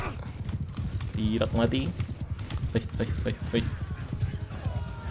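Galloping hooves clop rapidly from an Imperial horse in the medieval battle game Mount and Blade 2, with a brief whinny, while someone talks over the action throughout.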